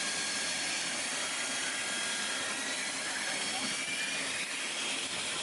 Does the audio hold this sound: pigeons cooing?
no